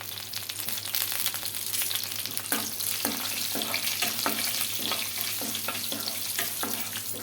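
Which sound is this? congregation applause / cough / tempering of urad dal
tempering of urad dal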